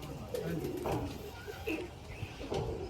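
Soft pigeon cooing in short low phrases, repeated a few times at close range, with a murmur of background voices.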